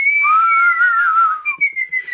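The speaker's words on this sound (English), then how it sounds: "Into his team he gave a whistle." A single person whistles a bright, sustained tune with a gliding, falling pitch, close and clear, ending in a few short chirped notes with no talking.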